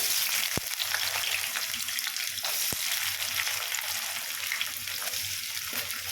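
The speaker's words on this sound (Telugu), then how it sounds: "ఇప్పుడు ఉల్లిగడ్డలు అనమాట ఒక ఐదు కదా అన్నీ కట్ చేశాను వేసేసుకుందాం" Chopped onions sizzle and fry in hot oil in a pan for a raw mango curry, a steady close crackling hiss with a couple of sharp pops.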